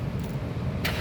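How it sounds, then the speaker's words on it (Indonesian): A 2011 Mazda 2 1.5 R Sport automatic is started with the key, giving a steady low engine rumble, close and fairly loud, with a brief brighter burst near the end. "Sekarang kita coba nyalakan mobil."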